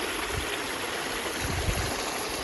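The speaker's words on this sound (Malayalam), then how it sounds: "പാടത്ത് കണ്ടോ വെള്ളം പോണു." Water running along a channel into a paddy field, a steady close rushing flow with low gurgling pulses underneath and no talk.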